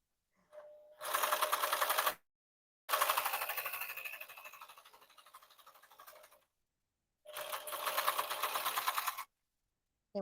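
A serger sewing machine stitches fabric in three bursts of rapid, close mechanical chatter, each lasting a second or a few seconds, with silent pauses between them.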